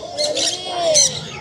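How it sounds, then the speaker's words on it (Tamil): A Karnapura (Omar) pigeon at Chennai's Broadway pet market gives a short, close, low, wavering coo, while faint bird chirps overlap it. "இது கர்ணப்புறா, ஓமர்."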